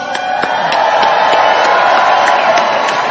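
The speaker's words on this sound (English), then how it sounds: "Let's give you all a round of applause" Loud, sustained applause and cheering fill an indoor Donald Trump rally hall in Houston, Texas, with dense clapping and occasional shouts from a large crowd, continuous for the whole stretch.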